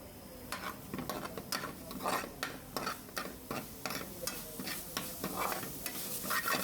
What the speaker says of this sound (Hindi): दो से 3 मिनट के लिए इसको अच्छी तरह से आपने मिक्स करना है।